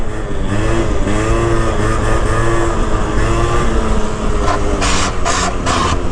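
Stock 50cc scooter engine revving hard and steady during a wheelie, a loud buzzing drone close by with a few sharp rises in pitch near the end.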